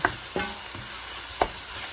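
Small shrimp frying in a pan, a steady close sizzle with a few brief clinks and stirring scrapes, no talking.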